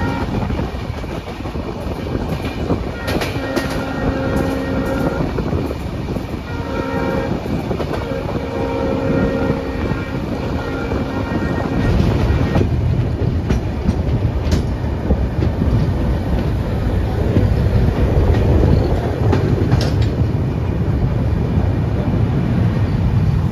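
A passenger train on the Dibrugarh to Kanyakumari route rolls along the rails with a loud, steady rumble, clicking wheel beats and intermittent tonal squeals, the low roar growing heavier in the second half.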